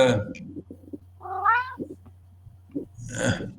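A cat meows in short, rising calls, one clear mid-clip cry followed by another louder one near the end, with a steady low hum underneath and some human voice sounds around it.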